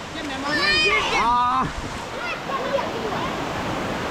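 Tad Sae waterfall near Luang Prabang produces a constant wash of flowing water, with people talking loudly over the rushing roar nearby.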